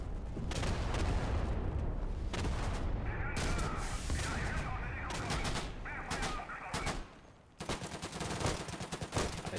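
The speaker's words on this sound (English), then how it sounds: "I thought that was the sound of a Bren." A Bren light machine gun fires in a Battlefield game set at Dunkirk. Dense, loud bursts of automatic gunfire keep going with brief gaps, and other battle noise is mixed in.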